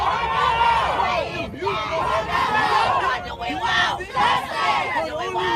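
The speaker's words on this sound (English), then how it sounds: "This is some of the crowd afterwards." Crowd outside a courtroom shouting and chanting after a verdict, a loud, dense mass of overlapping yelling voices with rising and falling surges, close and continuous.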